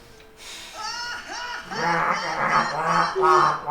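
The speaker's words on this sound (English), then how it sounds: "Goose noise comes out." Goose-like honking laughter from Final Fantasy X, several loud nasal honks in quick succession that grow louder toward the end, with chuckling mixed in.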